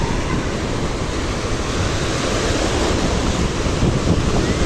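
Ocean waves at a beach in La Union, a loud continuous roar of surf with heavy wind buffeting the microphone throughout.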